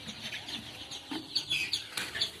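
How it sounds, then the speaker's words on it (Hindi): Sonali chickens gather at a drip-fed water drinker on a farm, giving soft scattered clucks and chirps at moderate distance, with brief rustles in between. "जनरली मुर्गियाँ यहाँ पर आती हैं और पानी अपना पी जाती हैं"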